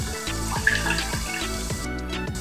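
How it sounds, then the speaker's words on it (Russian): Beet juice diluted one to one with water poured into a saucepan, a continuous close splashing stream lasting a couple of seconds, with no speech. "для этого нам понадобится свекольный сок, разбавленный 1:1 с водой. Добавляем его в кастрюльку."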